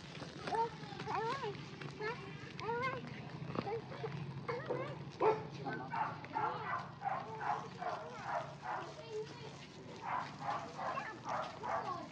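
Dogs bark and yip in short irregular bursts, mid-distance, during an outdoor morning family walk on a rough road, with people talking over and between the barks.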